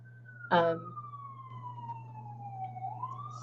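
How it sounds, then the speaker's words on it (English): A single siren tone on a New York City street slides slowly downward then rises again, fairly distant, over a steady low hum with a brief loud knock near the start. "Sirens in New York, yet again, yet again, yet again."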